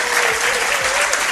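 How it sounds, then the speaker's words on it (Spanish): An audience bursts into applause for Sixto Paz, a guest on a paranormal mysteries show; dense, loud, close clapping sustained throughout, with no voices over it. "Un aplauso os pido para Sixto Paz"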